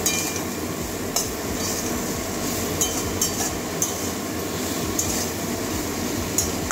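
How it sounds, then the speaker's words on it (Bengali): Salt being stirred into a papaya and potato curry in a pan, with a steady scraping hum and light metallic clinks of the spoon against the pan every second or so. "ভালো করে মিশিয়ে দেবো নুনটা"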